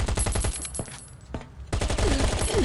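A gun turret in the survival game Last Island of Survival fires in loud rapid bursts, close and dense, with a short lull before the automatic fire resumes.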